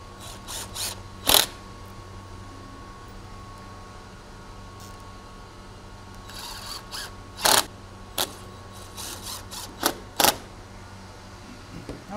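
Bugle head screws are driven through the back of crown molding during trim installation, heard as several short, sharp mechanical bursts from a driver against quiet room background, with a few separate runs clustered near the end.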